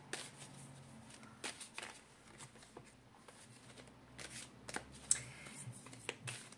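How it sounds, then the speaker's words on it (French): Oracle cards shuffled by hand, giving soft, close papery riffles and flicks in irregular bursts against a quiet room, with no talk. "Je vais mélanger les cartes de l'oracle bleu"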